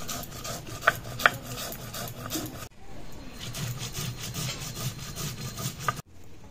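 Whole cumin and coriander seeds being ground together by hand on a stone in a village kitchen, a steady close rasping scrape with a few sharp clicks, pausing briefly before resuming.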